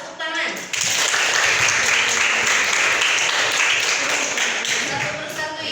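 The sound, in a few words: classroom applause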